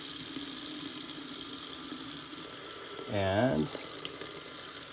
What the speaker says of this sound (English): I'm going to turn on the cold, and I'm going to run it until pink starts coming through